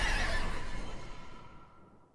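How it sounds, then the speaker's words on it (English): Warframe horse neighing vocals, a natural-sounding whinny that starts bright and strong, then trails off with a fading tonal tail over about two seconds, alone and fairly quiet. "For the horse neighing vocals"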